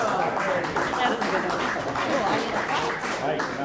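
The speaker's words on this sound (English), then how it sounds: "Audience claps." An audience claps through a 1972 class 50th reunion gathering at Cathedral in New Ulm, Minnesota, a steady wash of applause from a nearby crowd with voices mixed in underneath.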